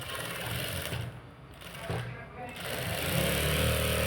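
A sewing machine runs in short bursts while stitching a high-neck blouse, its rapid mechanical whir pausing twice, with someone talking quietly over it.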